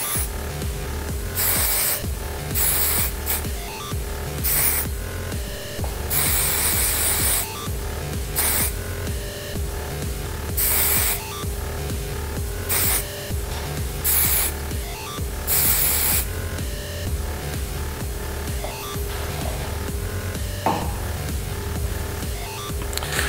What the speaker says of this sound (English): So what I do is just going to spray and shake.